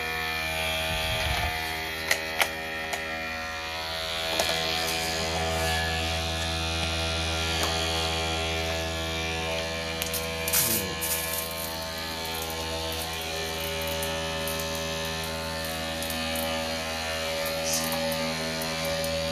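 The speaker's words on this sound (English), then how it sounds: "as you can hear, the electric sprayer keeping the consistent flow going for this" Electric sprayer pump of a carpet cleaner running as a steady, close mechanical hum with a constant buzzing drone, plus a few faint clicks and knocks, holding even loudness throughout without speech.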